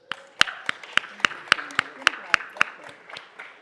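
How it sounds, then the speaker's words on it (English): Clapping at a city council meeting comes as a small group's rhythmic, evenly spaced claps, about a dozen sharp beats in a steady pattern, fairly close and distinct, fading toward the end with a faint voice beneath. "Big round of applause for Leela James."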